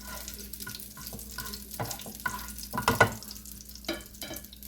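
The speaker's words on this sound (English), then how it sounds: "I'm gonna push this garlic to the side because it's already flavored the oil" Garlic sizzles gently in oil in a pan while being pushed aside, with soft frying crackle under intermittent scraping and stirring clinks, close and fairly quiet.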